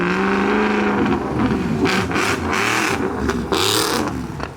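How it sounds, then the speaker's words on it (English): Suzuki Swift engine revving hard at a modified-car meet, loud and close, with rising and falling revs and sharp throttle blips. "The Swift is revving."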